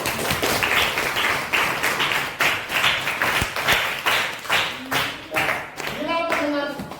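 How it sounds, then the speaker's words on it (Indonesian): A group of teachers and students claps hands together during a positive school culture session, a sustained run of crisp claps near and loud, with voices speaking toward the end. "Tepuk tangan."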